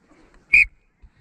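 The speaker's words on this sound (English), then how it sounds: "So whenever there's a whistle, it stops, and we get up." A single sharp referee's whistle blast cuts through a quiet pause at a boys' under-16 rugby scrum, short and bright, with faint movement before and after.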